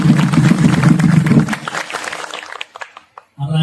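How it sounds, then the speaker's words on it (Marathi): An audience claps together at a devotional kirtan gathering, a burst of applause mixed with a low sustained tone that fades out, then briefly resumes. "राजाचं स्वागत सर्वांनी पुन्हा एकदा टाळी वाजवा."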